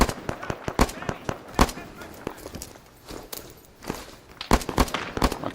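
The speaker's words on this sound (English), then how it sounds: "one of them popped a smoke" In the video game Dissension, a smoke grenade pops among a scatter of sharp gunfire-like bangs and cracks, irregular and fairly close, with occasional talk mixed in.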